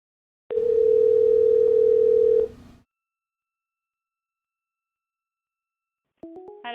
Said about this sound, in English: let's go ahead and make this phone call